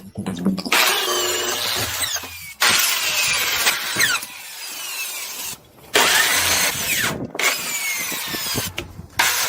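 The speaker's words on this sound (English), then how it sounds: "I'm going to drill the outlet of the first filter before I drill the drums" A power drill whines loudly in several long bursts separated by short pauses, close up, with a grinding bite as it cuts an outlet hole into a plastic drum.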